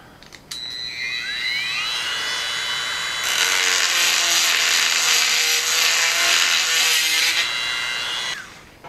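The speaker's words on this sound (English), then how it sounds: "We will clean up the edges of this on the Dremel tool." A Dremel rotary tool grinds the edges of a bent wire landing gear for a Mud Duck Sport model, a high whine that rises into a loud, sustained grinding for several seconds before winding down, close and alone.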